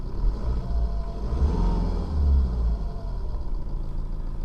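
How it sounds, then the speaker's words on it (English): A car engine idles just after a new fuel pump has been fitted, a steady low rumble close by with slight swells in loudness and no talking. "That engine sounds pretty good to me."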